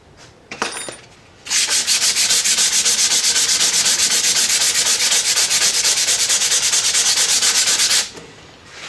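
A sinew-backed Ishi style wooden bow is sanded by hand with sandpaper: a loud, close, steady run of quick rasping strokes lasting several seconds, preceded by a few brief scuffs, with no talking.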